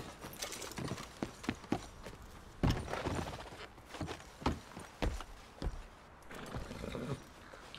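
Horse hooves clip-clop in a steady walking rhythm in the video game Red Dead Redemption 2, close and fairly crisp, with faint mechanical clinks and ambient noise around them.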